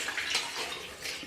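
Boiled peach water being strained through a sieve into a kadhai, a steady soft splashing and trickling pour close by, with no talk.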